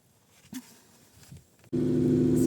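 A VAZ 2105 car engine catches after some faint fumbling and settles into a steady, loud idle rumble that runs close by until the end.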